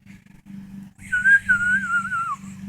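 A person whistles to a bird outdoors: a short steady whistled phrase, a brief pause, then a longer sliding sustained whistle over a low hum, close and fairly quiet.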